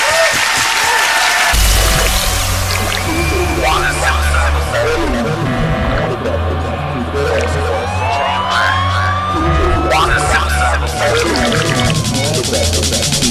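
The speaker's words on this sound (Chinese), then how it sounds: "掌声鼓励。" A television variety show's studio audience breaks into sustained applause, loud and dense throughout, with music and a host's voice mixed over the clapping.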